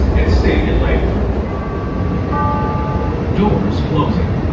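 A Chicago Brown Line elevated train pulls out of Clark and Lake station on the Loop, loud rumbling and rattling wheels with brief squealing tones, and voices talking over the noise.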